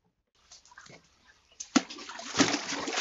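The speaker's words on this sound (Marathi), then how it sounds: "अरे गोळ्या किती वेळ पाणी खेळत बसणार आहे?" Water being splashed and played with outdoors, a few light sloshes early, then louder, busier splashing that builds toward the end with brief voices in the background.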